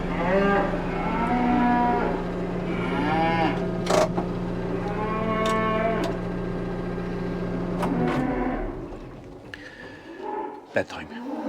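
Cattle on a farm mooing loudly and close, long drawn-out lowing calls overlapping in the first eight seconds, then quieter scattered sounds and a voice near the end.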